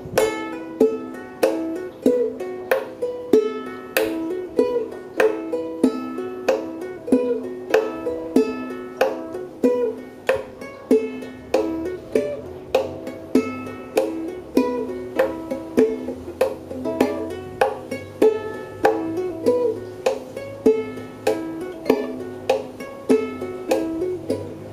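A song played on ukulele in an easier arrangement, a plucked melody line with steady percussive tapping on the lower strings, a close, clean and continuous rhythmic groove with no talking.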